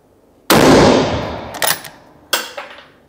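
A LIWA ARMS straight-pull rifle fires one loud, sharp shot outdoors with a decaying boom, followed by two crisp metallic clacks of the bolt being cycled.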